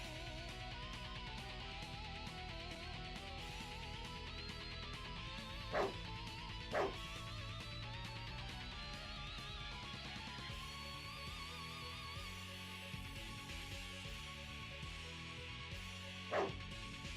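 Dogs in a Dragon Ball video game give a few short yips and barks, with three brief sharp outbursts over steady game music.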